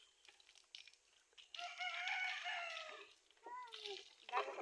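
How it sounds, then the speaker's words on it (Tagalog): Wet chicks and chickens clucking and crowing close by, a rooster's call rising over scattered peeps, with quiet voices talking now and then. "Ang mga basang sisiw."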